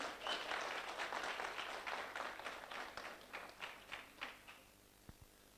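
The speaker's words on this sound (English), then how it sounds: "Please, can we give a round of applause to our exhibitors?" Faint, fairly distant applause from a small audience at a township business workshop, steady clapping that thins into a few scattered claps and fades out.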